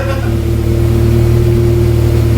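A VW GTI MK7.5 engine fitted with an AWE exhaust idles after starting, a low, steady, fairly loud hum with a smooth, even drone throughout.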